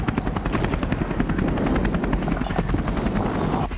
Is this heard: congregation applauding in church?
no